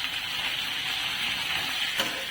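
Garlic and pumpkin leaves fry in a pan at home, a soft continuous sizzle with a faint clink near the end.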